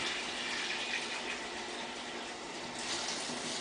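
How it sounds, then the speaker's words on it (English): Cold water poured over hard-boiled eggs in a kitchen, a steady, continuous gushing stream like a running tap filling a pan, with no voices over it. "Pouring cold water."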